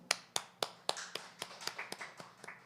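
A handful of people at an academic literature forum clap in sparse, quiet claps, about a dozen distinct hits that start crisp and evenly spaced, then soften and blur together as the clapping tapers off.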